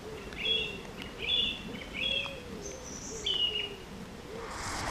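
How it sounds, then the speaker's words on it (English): Birdsong along the Ridgeway, a misty countryside trail in England, with repeated clear chirping phrases at a moderate distance over soft low-pitched cooing and a faint steady background hush. "birdsong echoed around me"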